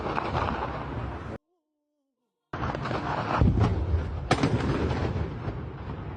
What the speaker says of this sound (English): This was gunshot blazing all through the night.